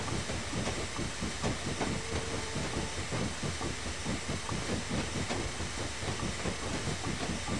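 A steam train in Train Simulator 2016 chugs steadily with rhythmic clanking and hissing, a dense continuous rumble without any voices.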